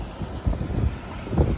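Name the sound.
strong wind outdoors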